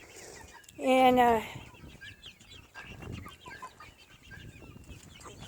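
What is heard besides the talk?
chickens clucking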